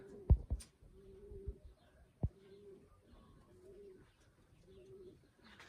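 Soft, repeated cooing of pigeons in a gentle rhythm, with a few sharp knocks and faint chirps in the background.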